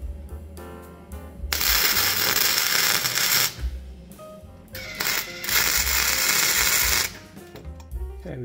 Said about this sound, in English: okay, we've cut the bolt head off.